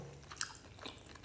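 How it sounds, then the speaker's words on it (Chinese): Kung pao shrimp balls being chewed up close, a brief bite with a couple of soft crunchy, wet chewing sounds, quiet and alone. "今天吃的是宫保虾球"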